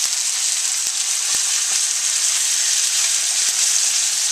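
Carrots sizzle in a hot pan for a shrimp instant ramen stir fry, a bright continuous frying hiss broken by a few sharp clicks of the utensil against the pan.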